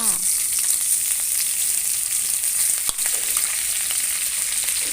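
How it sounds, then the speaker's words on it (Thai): Sliced pork belly sizzles loudly in hot oil in a wok with garlic, a dense steady crackle with occasional scrapes of stirring, close up and without voices. "ผัดให้หมูสุกเลยนะคะ"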